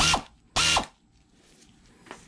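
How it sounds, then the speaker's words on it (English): AIRCAT 800 1/4-inch air ratchet driving a 1/2-inch socket at about 110 psi: two loud, close, buzzing rattles a fraction of a second each, followed by a faint click and quiet. "Start out with the AIRCAT 800. 1/4-inch ratchet. Using a 1/2-inch socket."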